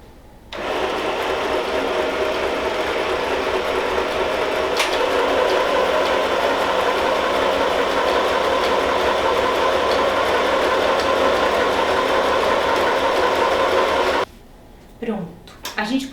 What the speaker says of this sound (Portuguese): a gente passou toda a costurinha em toda a volta